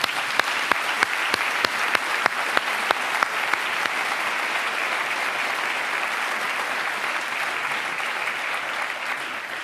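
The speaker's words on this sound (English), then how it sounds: "I think for that they deserve another round of applause." Audience at the opening ceremony of the 52nd St. Gallen Symposium breaks into sustained applause, a dense, even wash of many hands clapping that opens with a few sharp, distinct claps and continues steadily throughout.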